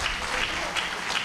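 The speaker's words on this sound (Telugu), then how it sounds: "ఒకసారి డిఓ గారికి మీ అందరూ గట్టిగా కథలు చప్పట్లు కొట్టాలి" An audience at a Telugu Language Day prize ceremony claps in a short, dense burst of steady applause that fills the whole moment, with no voices standing out over it.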